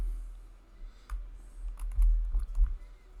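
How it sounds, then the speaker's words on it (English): Fingers type on a computer keyboard in short bursts of quick clicks. Faint taps are set over a low background hum. "we're gonna click and type Strong"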